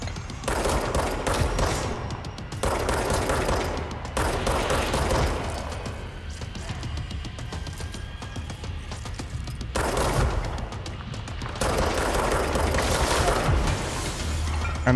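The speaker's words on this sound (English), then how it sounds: "I guess I have to like shoot him in the head." Gunfire in the game Control, sustained bursts of rapid automatic shots with booming impacts, loud and close, broken by brief lulls before the shooting resumes.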